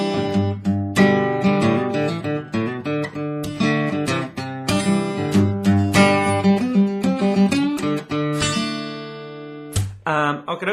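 Electric guitar plays the intro riff of Lynyrd Skynyrd's Sweet Home Alabama, picked chord notes ringing in a steady, continuous pattern that is loud and close, with a brief break near the end.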